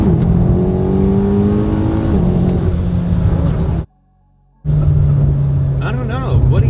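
A fast car at about 65 miles an hour gives a loud, steady engine roar with rising pitch, cut by a brief silence before the roar resumes, and voices talk over it.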